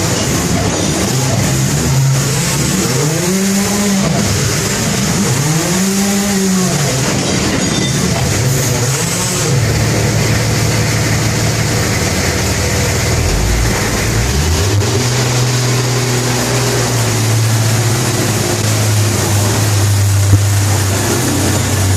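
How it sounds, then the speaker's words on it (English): An underground mucking machine loads a mine car, its engine droning close and loud with rising and falling pitch as it works, under steady mechanical rumble. "you can see a little bit of a mess that I've made there from filling the car"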